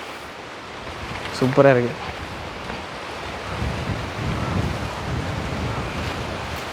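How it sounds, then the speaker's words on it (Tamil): Sea waves wash onto the shore of Eluvaitivu island off Jaffna as a steady, broad surf rush with wind noise, while a voice speaks briefly over it near the start. "அந்த பக்கமே ஃபுல்லாக அப்படியே கடல் தான்."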